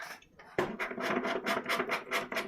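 A VIESIMPLE manual coffee grinder crushes beans with a steady, rhythmic rasping crunch that repeats with each turn of the handle, close and fairly loud, with no talking.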